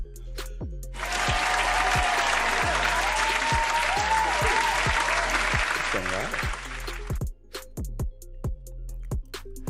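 A burst of dense hand clapping and applause swells in, holds for several seconds, and then cuts off. A steady low rhythmic beat plays under it, and a voice talks briefly near the end.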